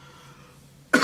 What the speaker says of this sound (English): The perfectly timed cough.